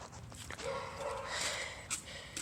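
Dog moving about indoors, with short yips and a bark mixed into shuffling and rustling, close and fairly loud, with faint voices in the background.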